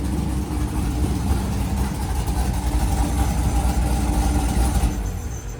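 A mini truck's engine runs with a crackly, rough motor, a loud steady low rumble idling close by without pause.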